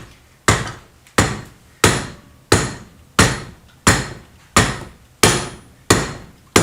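Soft hammer strikes metal being bent on a BM 250 trials motorcycle, about ten sharp, loud, evenly spaced blows roughly every two-thirds of a second, each ringing briefly before the next, close by with no speech.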